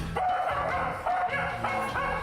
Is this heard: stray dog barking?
yes